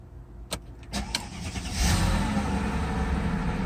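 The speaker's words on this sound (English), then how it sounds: "So now we're going to go ahead and start the car." Mercedes W220 engine starting: a few clicks and a short cranking whir, then the engine catches and settles into a steady close idle rumble.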